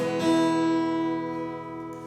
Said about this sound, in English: now if you can't quite tell what's wrong with that guitar, it's completely out of tune